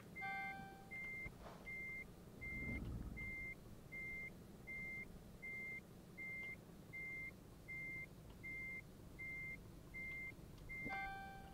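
A truck reversing with a semi-trailer in Euro Truck Simulator 2 sounds a steady series of evenly spaced electronic reversing beeps over a low engine hum, with a brief engine or air noise early on.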